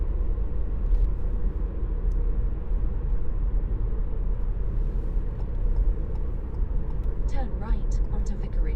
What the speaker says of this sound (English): This is just a 1 litre car. It goes like the clappers. Sounds pretty good too.